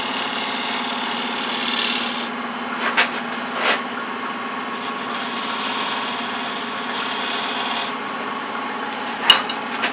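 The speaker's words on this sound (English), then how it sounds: "you do this with the help of a scraper to get in, clean up some of that detail on that surface" A wood scraper cleans up the detail in the corner of a bead on a woodturning lathe, a steady rasping hiss over a constant motor hum, with a few faint clicks and taps along the way.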